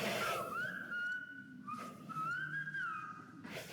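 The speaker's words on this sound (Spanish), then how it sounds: "¿Os comunicáis por silbo vosotros ahora cuando salís de aquí?" Silbo, the whistled language of La Gomera, rendered as two long sliding whistles with rising and falling pitch contours, clear and fairly close, and no talk alongside.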